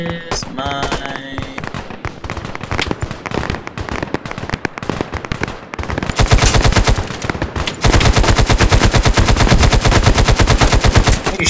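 Gunfire from a weapon in a video game: dense bursts of rapid automatic shots crackle loudly, then settle into a steady, relentless stream of rapid fire, sounding up close and heavy.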